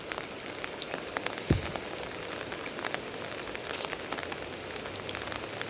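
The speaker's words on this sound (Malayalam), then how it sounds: "കാരണം മഴയാണ്, നല്ല മഴ പെയ്യുന്നുണ്ട്." Heavy rain falling beside a river during a fishing outing, a steady close patter with scattered sharp drops and one dull thump.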